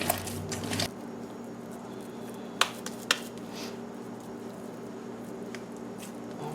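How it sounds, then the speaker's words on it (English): Bare hands squish and knead ground meat mixed with onions into patties in a home kitchen, giving soft wet squelches and a few sharp smacking pats, close and quiet with no talking. "I am going to patty these up after I squish this together a little bit better."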